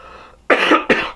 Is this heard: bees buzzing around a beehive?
no